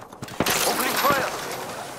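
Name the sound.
gunfire in video game Apex Legends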